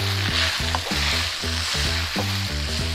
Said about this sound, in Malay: Kena goreng dengan api besar lah.